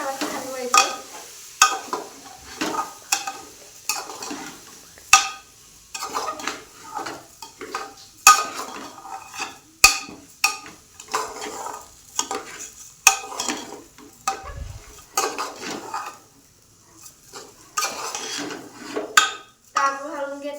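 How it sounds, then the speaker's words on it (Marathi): Washed rice is stirred in a pot with a spoon, giving repeated scraping strokes and clinks in an uneven rhythm over a soft sizzle, close and with no talk. "मी ऑलरेडी तांदूळ धुवून घेतलेला आहे तो टाकायचा। तांदूळ टाकला की हलवायचे।"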